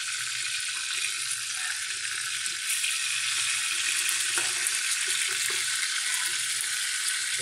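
Chicken skin and meat sizzle steadily in oil on an electric cooker, a constant bright hiss with faint pops and occasional soft clatter, no voices.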